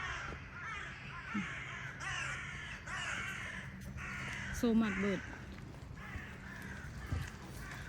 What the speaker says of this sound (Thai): อีกาหลายหลายพี่น้อง